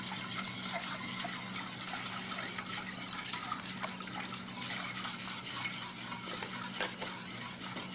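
A mixture of granulated sugar and salt is stirred steadily in a pan over low heat, giving a continuous soft scraping swish with faint occasional clinks, quiet and close, with no talk.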